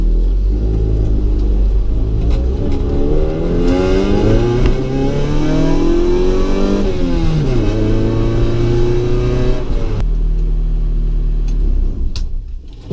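A 1990 Honda Civic DX on new MaXpeedingRods coilovers drives close up, its engine revving and climbing through the gears in rising sweeps before settling, with no talking over it.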